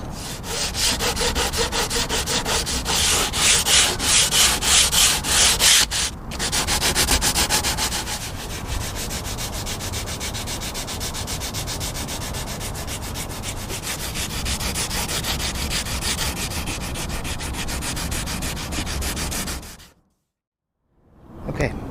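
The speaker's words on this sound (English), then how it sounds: "Now we'll just sand this smooth" A catamaran rudder is sanded smooth by hand, giving a loud, steady scratchy rasp of strokes that runs close up for about twenty seconds before a short silence and a brief return.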